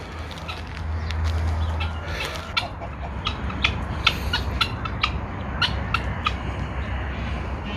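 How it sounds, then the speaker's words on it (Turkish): Birds calling outdoors, peacocks and chickens, with repeated short clucks and squawks from the chickens scattered over a steady background hum. "Tavus kuşları, tavuklar"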